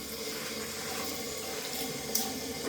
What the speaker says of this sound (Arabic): غادي نبدا نغسل بضولي